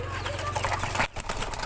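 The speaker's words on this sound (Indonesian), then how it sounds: "Nah ini dia burung aku." Pigeons coo close by, with soft low throaty calls under a broad, loud noisy background, likely wind or handling, including a brief dip near the middle.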